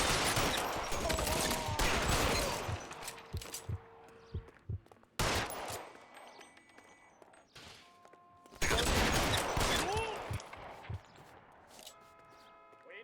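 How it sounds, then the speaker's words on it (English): Gunfire in the crime video game L.A. Noire comes in loud bursts of rapid shots separated by quieter gaps, with a few sparse single cracks in between and faint background sound. "I think this has some of the best sounding guns I've ever heard"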